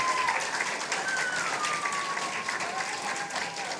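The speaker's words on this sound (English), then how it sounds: "Can you give her another round of applause," Sustained audience applause at a national French spelling bee, expo and fashion show, a dense steady wash of clapping filling the whole stretch with faint tonal squeaks riding over it.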